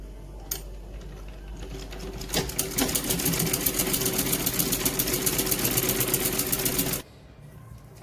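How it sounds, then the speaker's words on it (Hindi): A sewing machine runs a steady, close, continuous stitching line along a baby frock seam for about seven seconds, then stops and leaves a low background hum. "इस प्रकार हम इसे हल्का सा अंदर करते करते पूरा नीचे तक सिलाई लगा लेंगे।"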